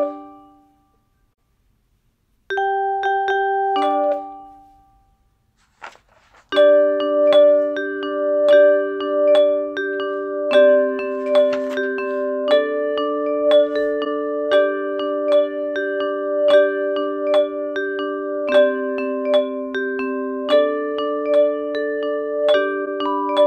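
Bell choir ringing an arrangement of a song: clear, sustained handbell tones in steady rhythmic chords with a repeating melody, loud and alone after a brief opening phrase and pause.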